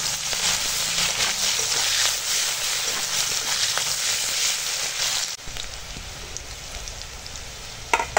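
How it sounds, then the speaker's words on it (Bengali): Onion and green chili frying in leftover fish-frying oil in a wok, making a dense, hissing sizzle close by that abruptly softens partway through, then continues more quietly with a small clatter at the end. "পেঁয়াজ কাঁচা লঙ্কাটাকে ভালো করে ভেজে নেব"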